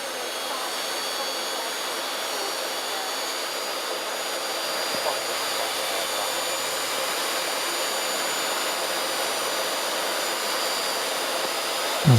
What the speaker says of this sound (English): The automatic engine start then commences